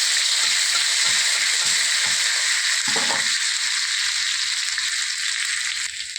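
Chopped ginger and cumin seeds frying in hot mustard oil in a wok, a loud steady close sizzle with a few stirring scrapes.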